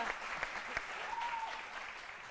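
A studio audience on a midday television programme applauds a guest being seated, a steady wash of many hands clapping at moderate distance, fairly faint and uniform throughout.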